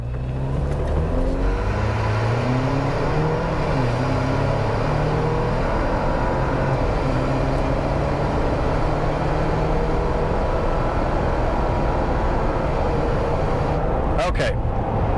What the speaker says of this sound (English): I have never once ever done a 0 to 60 pull in the Jeep